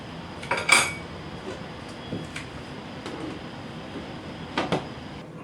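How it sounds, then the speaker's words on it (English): Metal utensil clinking against a cooking pot as food is stirred and a lid is set on, a few sharp clanks over a quiet kitchen background. "I'm gonna stir it around and then cover it so it cooks a little bit more efficiently"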